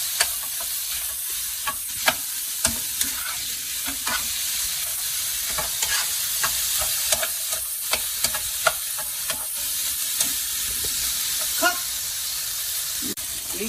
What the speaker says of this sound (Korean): 베이컨이 약간 조글조글 익을 정도로 볶아주십시오.